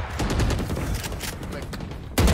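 Rapid automatic gunfire in Valorant, a continuous loud rattle of shots up close, ending with a heavier burst, with no voices over it.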